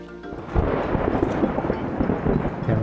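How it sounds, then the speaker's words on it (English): A massive thunder strike rumbles through a lightning storm over a disc golf course, a loud sustained roll with a rain-like wash underneath. "right there was a massive lightning and thunder strike"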